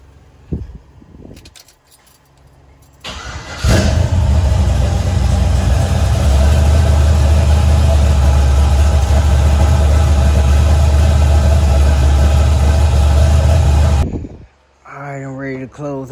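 A car engine cranks and catches after some quiet shuffling, then settles into a loud, steady, close idle that cuts off abruptly near the end, with brief voices afterward.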